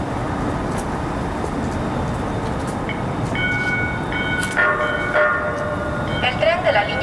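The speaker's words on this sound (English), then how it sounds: "Purple Line train arriving" A Houston METRORail Purple Line train pulls into a platform with a low rumble, then brake squeals and tonal whines rise over the last few seconds.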